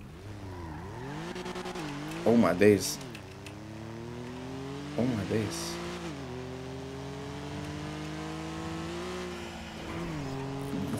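A very fast car in a police roleplay game accelerates hard, its engine note climbing through repeated upshifts with brief bursts of tire squeal; a voice exclaims briefly over the loud, close engine.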